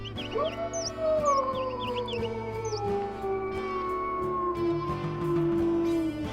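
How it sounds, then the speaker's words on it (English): The wolf Neo in WolfQuest lets out a long, drawn howl that glides slowly downward, over a quiet background of music and soft game sounds. "So that is what Neo's howl sounds like"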